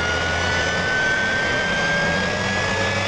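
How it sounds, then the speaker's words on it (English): A bladed turbojet spinning at high RPM gives a steady, loud, continuous roar with a thin sustained high-pitched whine over it, holding level throughout with no talking. "Think about the iconic high-pitched whine of a bladed turbojet when the rotors are spinning at high RPM."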